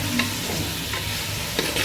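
Mutton sizzles and fries in a clay pot with turmeric, ginger, garlic and onion, a steady close crackle with a few stirring scrapes and clinks, no talking.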